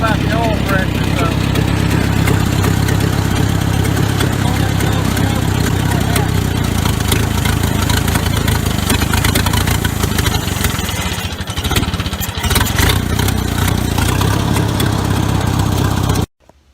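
A small engine on a Ford Jubilee tractor runs steadily on full choke with poorly set carburettor, loud and close with a continuous chugging drone and a brief dip before it cuts off at the end.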